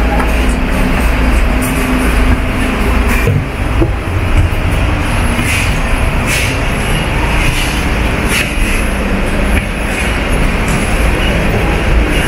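Hong Kong tram running near Central, a steady loud rumble of wheels on rails and motor noise continuing throughout, with no talk.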